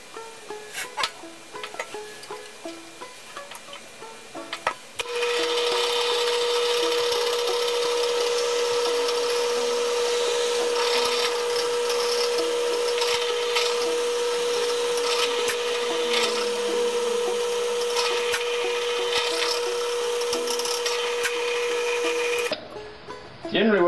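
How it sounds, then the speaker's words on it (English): A power drill boring a peg hole into the wooden headstock of a handmade banjo, starting after a short pause and running as a steady, sustained whine that stops abruptly near the end. "Generally what I would like to do is drill my hole a little smaller than it needs to be"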